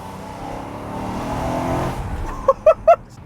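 BMW M3 with its V8 engine, a rising rev swell that peaks and fades, followed by three sharp, quick throttle blips close by and loud.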